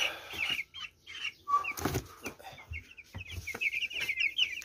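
Eight-day-old chicks are being moved into a larger cage. Their high, shrill peeping runs throughout, with some soft clucking and a few bumps and rustles of handling.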